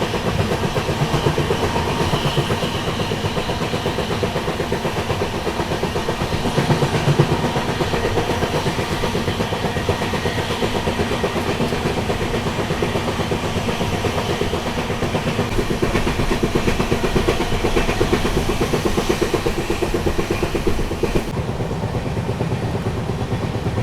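Yesvantpur Sindhanur Express with new LHB coaches rolling along, a steady broadband rumble with faint rhythmic clatter of wheels on rail joints, continuous and fairly loud from inside the train, with no talking.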